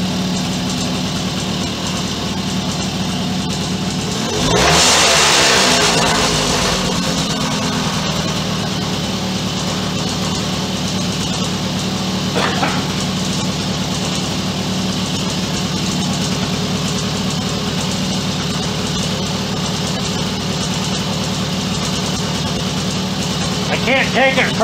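An engine on a Suzuki K11 motorcycle fitted with new pipes, head and cylinder runs and warms up with a steady idle. A loud burst of revving comes early, then it settles into an even drone.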